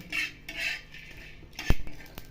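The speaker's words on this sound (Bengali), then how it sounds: "তাই অল্প অল্প নেড়ে নেড়ে এটাকে ভেজে নিতে হবে" Spices including ajwain are stirred and fried in a pan for aloo kabli, with a spoon scraping and knocking against the metal in short, close clinks and scrapes, the loudest knock near the end.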